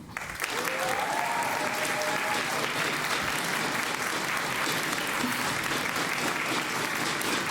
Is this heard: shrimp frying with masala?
no